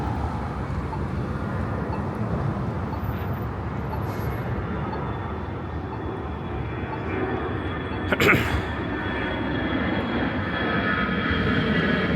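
Airplanes drone overhead in a steady, broad engine roar, mixed with faint road traffic and outdoor ambience on Queen's Plate Drive in Etobicoke, Toronto.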